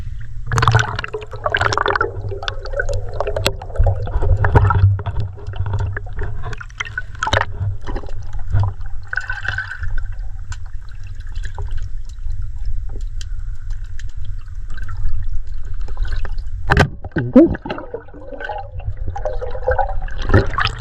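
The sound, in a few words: strong rushing water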